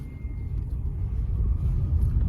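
A Tata Nexon EV electric car being driven in drive mode, heard from inside the cabin as a steady, continuous low road rumble without any engine note.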